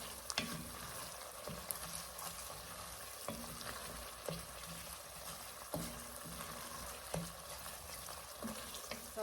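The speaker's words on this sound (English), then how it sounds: "So our carrots and onions have been cooking probably about 7 or 8 minutes" Carrots and onions sizzling steadily in a soup pot, with a continuous close frying hiss broken by occasional louder clinks and stirring knocks, no talking.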